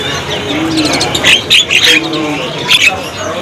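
Javan myna starlings in a bird-market kiosk give sharp chirps and whistles in short clusters, fairly close and loud over a murmuring background.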